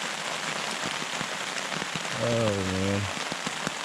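Steady rain patters around a backpacker at Table Rock State Park under a severe weather alert, a close, continuous hiss with scattered drop taps, while someone briefly speaks and a low hum rises midway.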